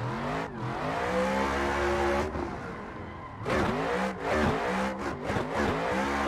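An 800 horsepower competition car in a racing game roars through a run, revving hard with sharp gear shifts and brief drops in the engine note, the tyres squealing now and then, loud and close.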